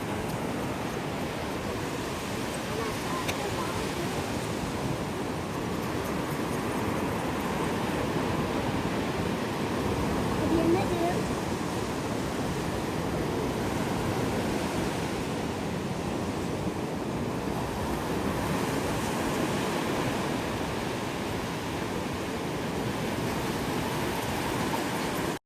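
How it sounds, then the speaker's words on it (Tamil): Ocean waves break on a beach in Dubai as a steady, broad wash of surf that rolls on without pause, with light wind noise on the microphone and no voices. "இங்கே வந்து அலை வந்து வெளியே தான் அடிக்கும், உள்ளே வந்து இழுத்துட்டு போகாது."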